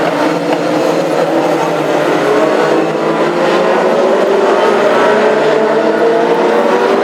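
Classic hot rod race cars lap the oval at Hednesford, with a continuous engine roar from the field passing at a steady distance.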